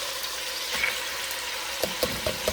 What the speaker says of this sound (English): Now what I'm going to do, guys, I'm going to add in my onion.